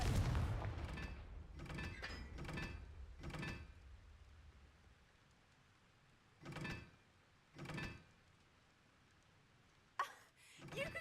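Confringo blasting spell cast in Hogwarts Legacy: a cluster of booming explosive bursts, followed after a pause by two more separate blasts and a final sharp crack, each short and punchy over a quiet background.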